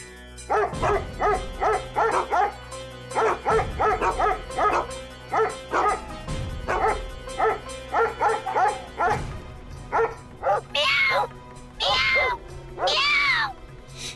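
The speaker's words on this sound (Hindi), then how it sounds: "हाँ उस्ताद, कुत्ते के साथ बिल्लियां भी।" Dogs barking and cats meowing in Dharampura: rapid rhythmic bursts of close, loud barks with meows mixed in, ending in several long, drawn-out wailing meows.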